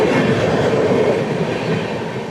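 Train 13330 pulls in at platform 3 of an Indian railway station with a loud, close, continuous rumble of rolling wagons and wheel clatter throughout.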